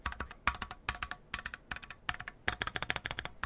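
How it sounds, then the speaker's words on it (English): A mechanical keyboard is typed on in quick clusters of sharp, close clicks with hollow, pingy key strikes, the spacebar included, and no voices. "That's spacebar though, it's like you're kicking a tin can."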